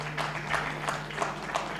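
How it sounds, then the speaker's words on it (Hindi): Audience applause for a panel at a Hindi media discussion event, a steady wash of clapping with periodic swells, moderately loud and continuous. "जोरदार तालियां आप बजा दीजिए"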